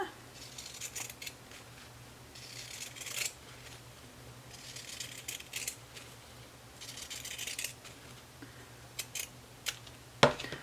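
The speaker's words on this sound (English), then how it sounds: "I'm going to be using pinking shears, and you can just cut all the way where you are sewing." Pinking shears trim the fabric seam allowance of a dress bodice in repeated crisp, close snipping bursts with short pauses between them, a faint steady hum underneath and a sharp clack near the end.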